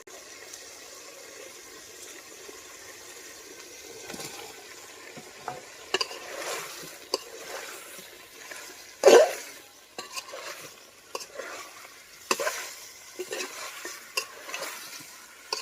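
Home-raised country chicken stir-fried in spices with red potatoes: a faint steady sizzle with occasional spoon scrapes and clinks, one sharp louder clatter midway, close and mostly quiet.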